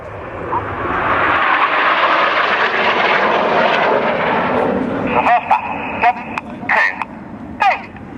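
Red Arrows aerobatic jets roar loudly overhead in formation at RAF Duxford, a broad engine rush that swells and then fades, with a commentator speaking and sharp radio or crowd noises near the end.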